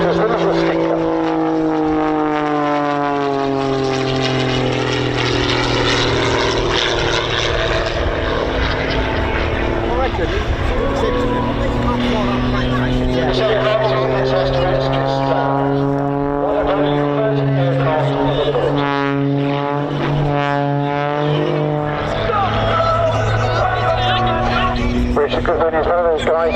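A propeller-driven aerobatic display plane, the Little Stinker, drones loudly and continuously. Its engine pitch rises and falls through manoeuvres while a commentator talks over it.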